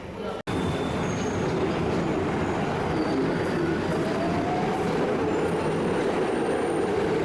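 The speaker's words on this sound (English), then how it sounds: "We got it in the end, the Railjet." A Railjet train rolls through Budapest Kelenföld station, a loud, steady rumble of wheels and carriages with faint squeals, heard close and continuous after a brief click at the start.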